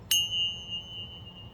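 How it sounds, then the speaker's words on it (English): A single bell struck once rings out with a bright clear tone that lingers and slowly fades over a quiet background. "You might want to mind your ears because I will be ringing a bell. It's quite loud."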